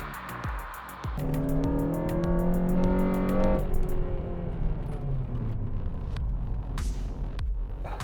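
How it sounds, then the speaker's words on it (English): A Honda Civic Type R launches hard off the start line of a hill climb, its engine revving up through rising, strained notes with tyre noise, then easing off as the car pulls away, loud and close. "I push hard in the Civic and get my best launch off the start line"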